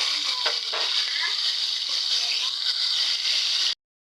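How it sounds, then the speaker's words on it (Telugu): Green chilies and masala paste frying in oil for a fish fry, a steady bright sizzle with faint stirring scrapes that runs unbroken for several seconds, then cuts off abruptly. "అదే ఆయిల్లో చేసి ఆయిల్ అంతా ఫ్రై చేసుకోవాలండి"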